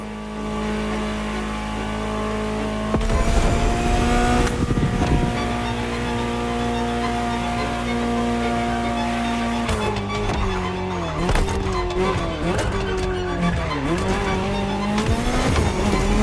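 A Ferrari GTO engine in The Crew Motorfest idles, then revs up loudly, holding a strong steady drone with wavering pitch and tire squeal toward the end.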